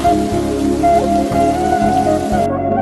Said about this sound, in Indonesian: Tidak beberapa lama kemudian turun hujan lebat.